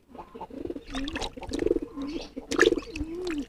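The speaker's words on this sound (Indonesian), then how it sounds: "agar merpati kalian semuanya bisa giring keras, bisa giring keket seperti ini si Putra Petir" A pigeon coos close by in repeated soft, throaty phrases with short breaks between them.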